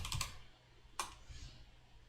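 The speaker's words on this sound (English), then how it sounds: "I'm just going to type open demo skill" A computer keyboard being typed on, a short cluster of quiet clicks at the start and one sharper keystroke about a second later, close and faint against a low hum.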